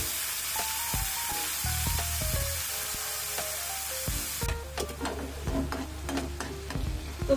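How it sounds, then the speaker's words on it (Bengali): Tomato paste is added to a hot pan already frying with a dried red chili and kalonji, producing a continuous sizzle with occasional stirring scrapes, fairly close and moderately loud. "এখন আমি দিয়ে দেবো যে টমেটো পেস্টটা করেছিলাম"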